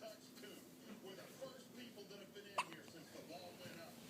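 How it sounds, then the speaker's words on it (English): A baby gives a single sharp hiccup about midway, short and close, over a faint steady background hum. "I got hiccups."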